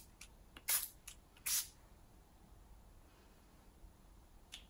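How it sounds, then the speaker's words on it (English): A facial mist spray bottle gives two crisp, close hissing spritzes, each about a fifth of a second, with lighter clicks and handling sounds around them in a quiet room. "Sometimes I'll just spray this on my face when I'm not wearing makeup"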